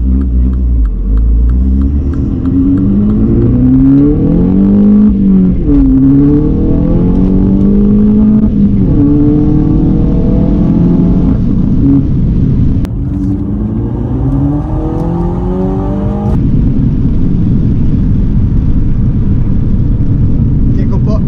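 A Mini Cooper S F56 JCW tuned to roughly 300 hp accelerates hard through several gears, its engine note climbing and dropping in repeated revving sweeps, loud and close from inside the car.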